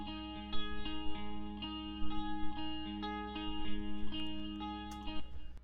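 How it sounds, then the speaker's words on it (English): A distorted, effects-laden guitar arpeggio in a pop EDM track runs in steady repeating note patterns over a low synth bed, with chorus and echo coloring and no voices. "It's not really a lead, it's just kind of like more of an arpeggio type thing."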